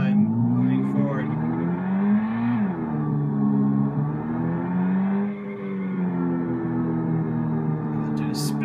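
A car engine in a Unity 5 driving game revs continuously, its droning tone rising and falling in pitch with a brief dip midway, loud and close throughout.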